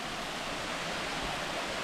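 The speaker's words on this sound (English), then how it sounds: "I get to go right over the waterfall." Waterfall on the Warrie Circuit at Springbrook, a steady broadband rush of falling water close by, continuous and unbroken with no voices over it.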